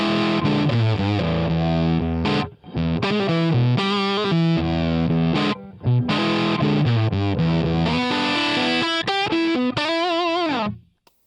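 A reamped electric guitar runs through an Eleven Rack Plexi amp preset with the reverb switched off. It plays loud, distorted chords and riffs almost continuously, with a brief dip near the start and a sharp stop at the end.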